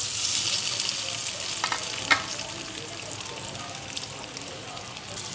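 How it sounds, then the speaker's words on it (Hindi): Eggs sizzle in a pan with oil and chili powder while making egg pulao, a steady crackling hiss broken by one light utensil clink. "2 से 3 मिनट हम इसको फ्राई करेंगे। और इसके अंदर जो ये अंडे हैं हम डाल देंगे।"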